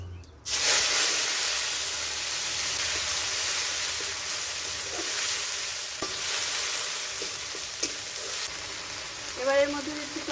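A ground paste of onion, garlic, dried chilli and cumin goes into a hot pan, setting off a steady, close sizzle and hiss with a few scattered stirring clicks, and a brief spatter near the end.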